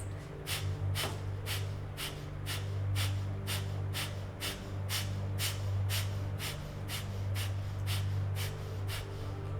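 Rapid rhythmic Kundalini breath of fire during a yoga class, a steady train of sharp nasal exhales, about two per second, close and even throughout, over a low steady hum with no talking.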